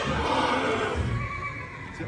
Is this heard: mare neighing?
yes